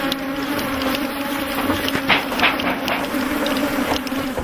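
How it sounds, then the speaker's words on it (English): African honey bees swarm out of opened hives during a honey harvest, a dense, continuous buzzing hum that stays loud and close throughout. "thousands more bees come out to defend them"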